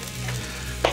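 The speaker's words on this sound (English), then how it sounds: "Let's give our peppers kind of a flip here" Peppers on a Blackstone griddle give a brief, soft sizzle while being flipped, ending in a short metallic scrape or clack from the spatula.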